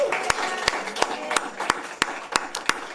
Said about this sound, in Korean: 우리 하나님의 안식이 우리의 마음과 생각을 지켜주심에 감사와 영광의 박수를 올려드립니다